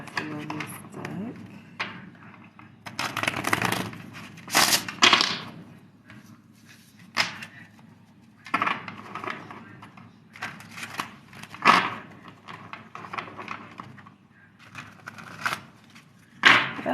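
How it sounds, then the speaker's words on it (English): Tarot cards being shuffled in short, irregular bursts of papery riffling and flicking, close by, with pauses and some murmured talk between. "Let's do a quick shuffle on this deck."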